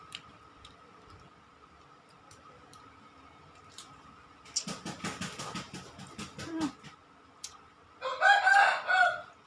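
A village rooster crows in a short, loud burst near the end, preceded by faint background ticking and a stretch of rhythmic clattering in a quiet outdoor setting.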